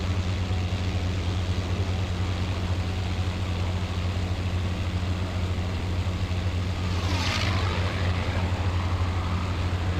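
A P-51D Mustang warbird flies in formation in Microsoft Flight Simulator, its piston engine giving a loud, steady low drone for the whole stretch, with a brief swelling whoosh partway through and no talk.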